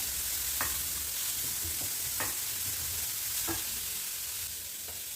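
Vegetables sautéing in a hot pan for a puttu filling, with a spoon scraping through them about every second and a half over a steady, close sizzle.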